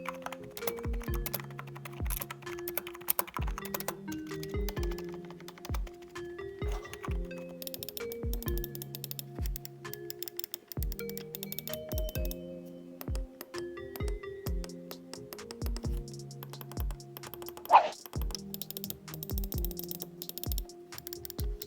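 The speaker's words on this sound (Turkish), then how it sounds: "Şimdi gelin şu mouse'la klavyenin bir seslerine bakalım." Steady typing on a soft, muted membrane keyboard with scattered sharper mouse clicks mixed in, close and continuous, no voices.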